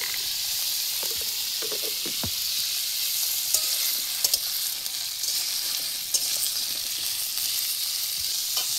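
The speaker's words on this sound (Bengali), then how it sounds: "তো আমরা এইভাবে আলুটা ভাজতে থাকি" Close, steady sizzling of potatoes frying in hot oil, continuous throughout, with occasional clinks and scrapes of stirring.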